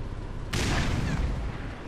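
A grenade blast in the video game Black Mesa erupts as a sudden loud boom, then a rumbling tail that fades slowly across the remaining second.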